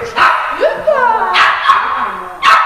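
A dog barks and yips several times in quick bursts during an agility training session, close and loud, with a handler's voice mixed in.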